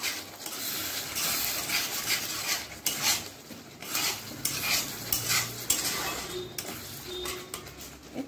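Prawn curry ingredients with potato being stirred and sautéed in a pan, a spoon scraping and clinking against the metal over a low sizzle, in irregular close strokes without talking.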